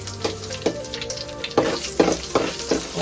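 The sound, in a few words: gongura chutney and cumin frying in hot oil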